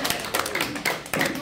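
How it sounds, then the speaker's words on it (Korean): Audience clapping at a Korean forum on air-powered generator development, a short burst of applause filling the room for about a second and a half, with speech in the room mixed in. "박수 쳐야지 이때는 박수."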